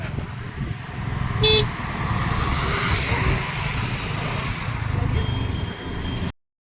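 A queue of about twenty to twenty-five cars waits on a Konkan road at sunset. A short car horn toots once, near, over a steady wash of idling engines and traffic rumble.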